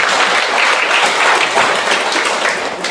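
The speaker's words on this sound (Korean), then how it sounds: "답변 박수 한번 드립니다." An indoor lecture audience applauds a sports university professor, producing steady, dense clapping that holds at an even level for a few seconds with no talk over it.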